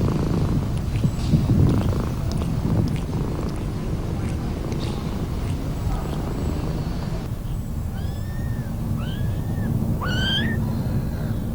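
A domestic cat purrs in a low, steady rumble close by, with a few high chirps and meow-like calls toward the end.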